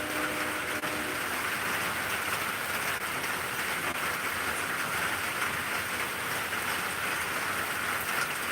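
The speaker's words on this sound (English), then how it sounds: "It is rain." Rain falling steadily, a constant broadband patter and hiss throughout with no talk.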